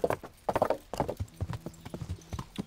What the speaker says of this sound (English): Where's my horse? Let's ride there.